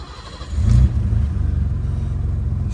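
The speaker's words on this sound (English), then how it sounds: "Starts nice and settles down to a nice idle." A 1980 BMW 635 CSi E24 automatic cranks over and catches with a short loud surge, then drops into a steady, low, even idle rumble, close by with no one talking.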